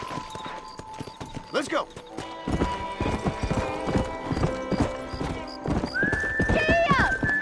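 Horse hooves clip-clopping at a steady trot in the Red Dead Redemption video game, with whinnies and neighs cutting in, and a voice shouting over the hoofbeats.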